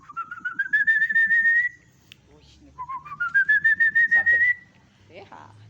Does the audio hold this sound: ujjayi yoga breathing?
no